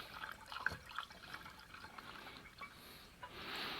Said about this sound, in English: We're trying to pour as quickly as we can to carry that any kind of rust and debris along with us.